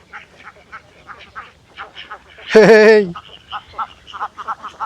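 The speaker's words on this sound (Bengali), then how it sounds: "এই পাশে হচ্ছে কতগুলো হাঁস" Ducks in a village give one loud, nasal, honking quack, clearly standing out against a quiet outdoor background of soft, repeated short calls.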